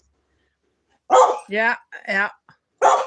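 A pet dog at home yelps and howls in several short bursts, close and fairly loud, as if trying to sing along, with a brief spoken word in between.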